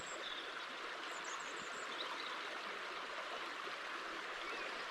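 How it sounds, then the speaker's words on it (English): A wilderness river rushes steadily in a continuous, broad wash of flowing water on a frosty June morning, with a few faint bird chirps over the top near the start and no talking. "Little bit of bird song, little bit of river, frost on the grass in June."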